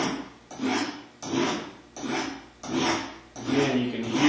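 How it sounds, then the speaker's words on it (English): A knife blade drawn across a diamond sharpener in six rhythmic strokes, each a gritty, abrasive rasp separated by brief pauses, close and clear. "you can hear the abrasiveness of those diamonds"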